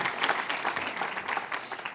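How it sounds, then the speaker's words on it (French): Brief burst of audience applause at a cancer-institute conference session, a steady patter of many hands clapping in a hall, moderately loud. "je crois qu'on peut applaudir"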